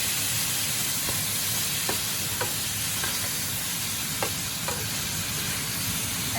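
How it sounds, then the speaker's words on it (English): Frozen stir-fry vegetables sizzle steadily in a hot pan, a continuous broadband crackle, with a few sharp scraping stirs of a utensil against the metal scattered throughout and no talking. "I have my frozen vegetables for stir fry"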